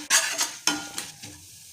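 Fenugreek seeds and urad dal frying in hot coconut oil, a soft sizzle broken by several sharp stirring scrapes of a spoon against the pan, close up, with no talking.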